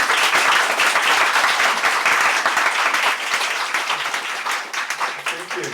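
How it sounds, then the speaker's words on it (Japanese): A church congregation gives a guest speaker a welcoming round of applause: dense, steady clapping from a roomful of people that tapers slightly toward the end. "早速ラルフ先生を拍手を持ってお迎えしたいと思います"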